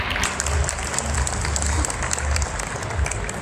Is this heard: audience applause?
yes